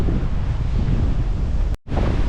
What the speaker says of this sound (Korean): 바닷가로 내려왔는데 바람이 정말 세게 불고 있습니다